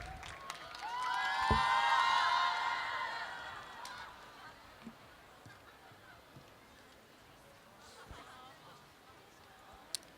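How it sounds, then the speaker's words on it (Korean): A studio audience at a televised book lecture show bursts into applause and cheering, a swelling wash of clapping that fades after a few seconds into quiet room tone with scattered small noises. "자, 그럼 박수를 한번 모셔보겠습니다"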